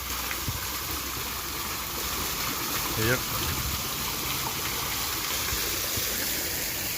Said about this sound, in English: And this cool little water fountain.